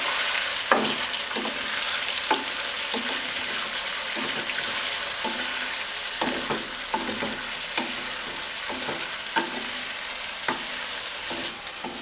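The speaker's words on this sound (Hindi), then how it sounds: "इसको अच्छी तरह फ्राई कर लेना है।" Chicken with ginger garlic paste frying in a pan, a continuous sizzle with frequent sharp clinks and scrapes of a utensil stirring at an uneven pace.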